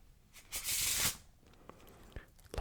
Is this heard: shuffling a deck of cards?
yes